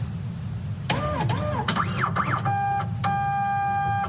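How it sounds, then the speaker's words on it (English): An office printer running and jamming, with mechanical whirring and sweeping motor tones, a few stuttering clicks, then steady electronic beeps near the end, close and fairly loud with no talking. "printer's jammed"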